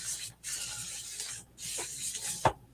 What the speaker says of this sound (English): I'm going to spray down this paper towel